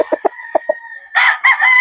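Gamefowl roosters at a backyard breeder's yard, a few short clucks followed by a loud, close crow, with another crow overlapping right after.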